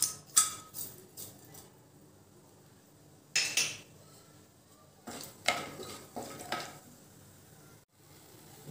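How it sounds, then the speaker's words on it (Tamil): Whole garam masala spices drop into hot oil and ghee in a pan for coconut milk tomato biryani, giving a few sharp crackling sizzle bursts and metallic clinks separated by quiet stretches. "இப்போ எண்ணெயும் நெய்யும் சூடானதும் இந்த ஹோல் கரம் மசாலா பொருட்களை இதில் சேர்த்துடலாம்"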